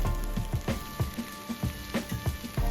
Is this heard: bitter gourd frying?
yes